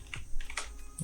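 A few quick, light keystrokes on a computer keyboard, close and crisp, spaced irregularly over a brief moment with no voice.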